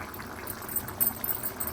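A pot of fish and raw mango curry made with small Godavari cheeramenu fish, simmering with a soft, steady bubbling that hisses faintly throughout, close by and with no talk.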